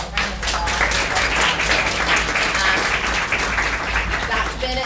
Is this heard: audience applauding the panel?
yes